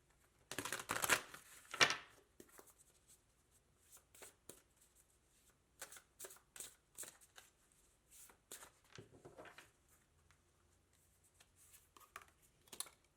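Tarot cards shuffled by hand, beginning with a loud flurry of riffling, then softer scattered slaps and sliding card sounds over several seconds, close and quiet overall with no speech.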